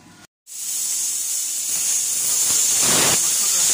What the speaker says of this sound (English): grind back a little bit round here where the outrigger will weld on